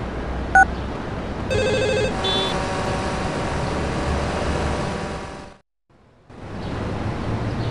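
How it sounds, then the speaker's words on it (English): A public phone outside a courthouse rings in GTA Liberty City Stories, a steady electronic ringing over continuous city traffic hum that briefly cuts out near the end before the ambience returns. "I'll call you on the public phone outside the courthouse."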